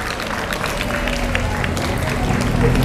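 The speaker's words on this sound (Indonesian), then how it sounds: "tepuk tangan untuk kita semuanya." Students and staff clapping together at a Friday morning school assembly, a dense, steady patter of many hands that holds at a fairly loud level for the whole stretch, with a faint murmur of voices beneath.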